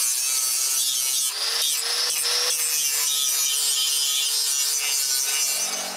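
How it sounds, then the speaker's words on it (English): A grinder shaping and smoothing the sharp corners of a homemade wooden snowmobile tow bar, giving a steady, loud abrasive rubbing and rasping that runs continuously and close up for several seconds, with no talking. "I also use the grinder to remove the sharp corners."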